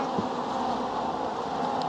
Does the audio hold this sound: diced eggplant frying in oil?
no